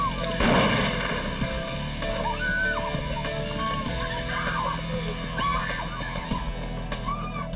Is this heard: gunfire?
yes